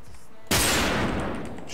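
A sudden, loud blast of gunfire from a first-person shooter game erupts mid-clip and decays into a noisy tail, heard close with no talk over it.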